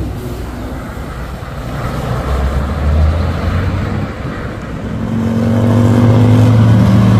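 A white Hino trailer truck's diesel engine revs hard while climbing a steep hill at Bukit Kodok, a low rumble that dips and then swells into a louder, sustained roar toward the end.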